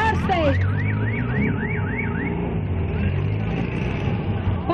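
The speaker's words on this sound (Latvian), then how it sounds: "Pat ir signalizācija" A car alarm at the Grobiņa town festival in Latvia wails with a rising and falling siren tone, looping several times before fading into a steady electronic drone over engine rumble.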